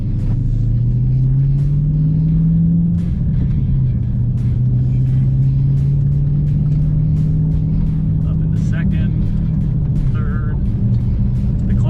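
A Dodge Challenger on a Radford Racing School track drones loud and close, its engine pitch climbing and settling as it pulls through the gears, with someone talking over the steady roar.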